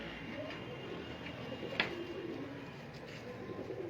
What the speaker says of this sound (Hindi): ये दोस्तों कबूतर चेक करें माशाल्लाह